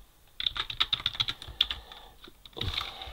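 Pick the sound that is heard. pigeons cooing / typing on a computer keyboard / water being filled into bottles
typing on a computer keyboard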